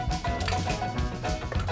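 Chopped potatoes dropped into a saucepan of water, a few close wet plops and splashes in quick succession, with no talking.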